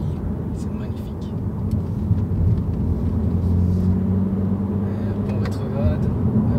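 A BMW M440i engine drones steadily from inside the cabin while driving, a low continuous rumble that swells slightly midway, with road noise beneath and someone speaking over it.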